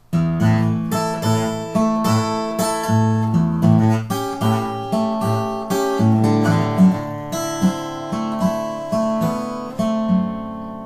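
Acoustic blues guitar plays a slow, rhythmic pattern of plucked bass notes and chords, each ringing out before the next, with no voices.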